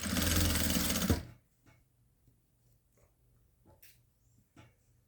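Sewing machine stitching a fabric hem whirs loudly for about a second, then stops, leaving faint handling clicks and rustles in a quiet room.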